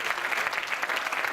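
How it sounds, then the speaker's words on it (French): A church congregation applauds during a Sunday school presentation: dense, steady clapping fills the whole moment at fairly loud volume, with no clear voices over it. "Applaudissez-les, battez vos mains"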